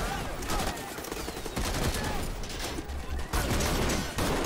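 Gunfire during a robbery in the video game Marvel's Spider-Man Remastered: dense, continuous bursts of shots and fusillade-like rattling over a busy, loud game soundscape, with a voice talking at times.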